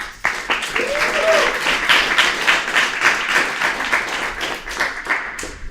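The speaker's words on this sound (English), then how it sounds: "Let's give another round of applause for our panel." A conference audience applauds its panel, a steady wash of many hands clapping for several seconds, fairly loud and even, fading slightly at the end.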